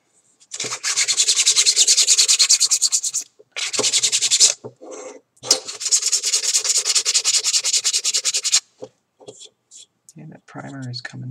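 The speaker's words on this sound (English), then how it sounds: "I'm not going to have to hit this with too much sandpaper, I think." Sandpaper rubs in quick rhythmic strokes over a primed Mandalorian prop part, long scratchy bursts broken by short pauses, close and loud, with a brief spoken remark near the end.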